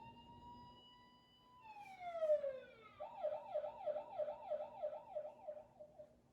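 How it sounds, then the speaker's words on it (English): Ambulance siren, a long steady tone sliding downward, then a fast rising-and-falling wail that repeats evenly, heard clearly with no talk over it. "the first one, right, was an ambulance"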